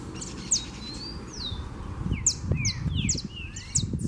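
Coleiro (papa-capim) birds singing outdoors, several clear whistled chirps and rising notes from more than one bird, over a low rumbling background and some rustling.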